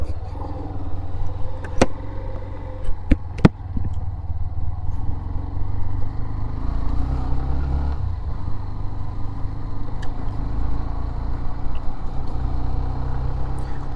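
Hero Xtreme 125R motorcycle riding on a rough road, its engine a steady low drone throughout with sustained rumble, a few sharp clatters near the start, and no talking.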